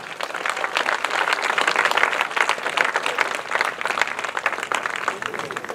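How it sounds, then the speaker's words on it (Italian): An audience at an evening of an Italian music festival applauds steadily, a dense, even wash of many hands clapping that holds at a constant level throughout. "Facciamo un grande applauso al direttore artistico Emidio Ausiello"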